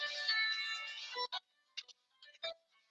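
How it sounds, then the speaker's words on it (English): A phone ringtone plays, a sustained bright tone first and then several short chirping notes with gaps between them, fairly faint and with no talk over it. "I can't get to my phone right now because it's a little ways from me. So you have to deal with that little sound. And let's let it ring."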